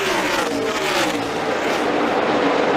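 NASCAR Cup stock cars roar through turn 3 near the end of a race, a loud, dense engine drone from several cars together that holds steady throughout.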